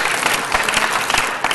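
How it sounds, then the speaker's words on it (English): An audience at a city council meeting breaks into a short burst of applause for an honoree, a thick, continuous wash of clapping from many hands close by. "Can we give Evelyn Gomez a big round of applause?"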